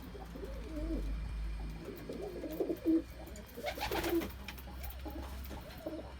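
Tumbler pigeons coo at the Edirnekapı bird market in Istanbul, several soft, rolling coos repeating close by over a low background hum, with a few brief clicks and rustles.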